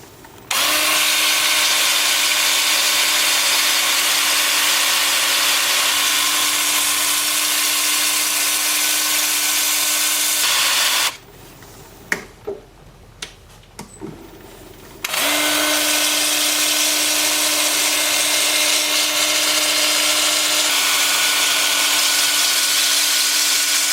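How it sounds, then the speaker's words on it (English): Wood lathe running at about 300 RPM during sanding, with a steady, loud whirring drone that cuts out for a few seconds of quiet with faint knocks before resuming. "The lathe will be spinning forward at about 300 RPM, and then I will alternate between forward and reverse"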